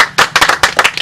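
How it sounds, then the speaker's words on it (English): A small audience gives a brisk round of applause for a guest at a show, about a second of close, uneven hand claps with no voices over them. "let us give a big round of applause"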